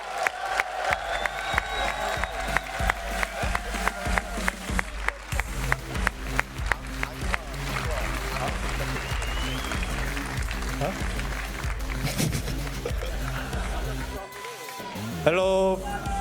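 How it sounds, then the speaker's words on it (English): A crowd at a tournament semifinal claps in a rhythmic, unified beat at first, then breaks into loud sustained applause and cheering with voices mixed in. "Allez, on applaudit pour le motiver."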